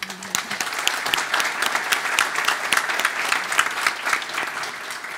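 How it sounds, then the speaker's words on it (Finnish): An audience at a business event in Rauma claps loudly and steadily, a dense, sustained burst of applause filling the room with no talk over it. "joten annetaan raikuvat aplodit Riikalle."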